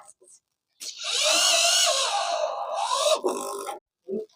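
Power drill driving screws to fix a uPVC rain water gutter end drop, a sustained whirring burst of about two and a half seconds with short bumps before and after, close and fairly loud.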